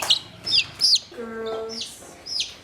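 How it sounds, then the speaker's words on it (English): Chickens cluck and squawk close by in short bursts, with a longer drawn-out cackle in the middle. "We're just gonna grab some chickens."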